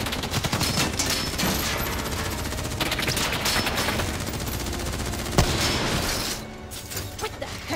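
Dense, sustained gunfire in a first-person shooter combat scene, overlapping rifle and machine-gun bursts rattling continuously at close range with a sharp boom near the end before easing off.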